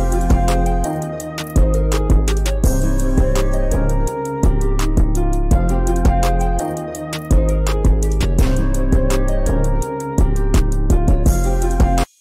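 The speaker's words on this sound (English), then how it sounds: "So first thing, I have this beat that I just made." An unmixed hip-hop beat, built in FL Studio, plays alone: loud, dense layers of booming bass and punchy drums in a steady looping groove, with brief dropouts where the low end cuts out.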